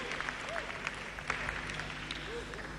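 Audience applauding at a film festival closing ceremony, a faint, scattered patter of clapping with a crowd murmur over a short stretch.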